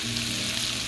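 Garlic and onions fry in a pan, a steady close sizzle with a continuous crackling hiss that holds even for the whole second, with no voices over it.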